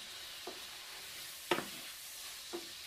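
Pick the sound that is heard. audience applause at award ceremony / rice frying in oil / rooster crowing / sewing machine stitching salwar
rice frying in oil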